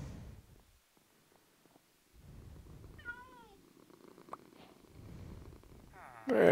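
In Minecraft, a cat gives a single drawn-out meow amid a low, quiet purr, with someone talking softly over the game before and after it.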